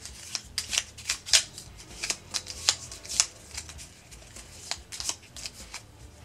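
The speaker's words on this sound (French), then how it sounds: "On va mélanger les différents decks" Board game card decks, including a wound deck, being riffled and shuffled by hand at a table; a rapid series of crisp, close flutters and snaps repeats in quick bursts with no talk.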